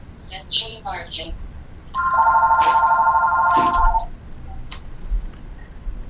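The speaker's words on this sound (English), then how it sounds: "I apologize, my phone is ringing" A telephone rings indoors during a live television interview, its electronic tone sounding steadily for about two seconds and cutting off, with people talking before and after.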